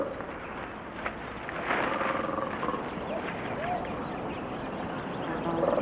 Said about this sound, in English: Big cats such as leopards.